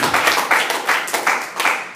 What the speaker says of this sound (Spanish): Le vamos a dar a Jesús una ofrenda de palmas por la vida de ella.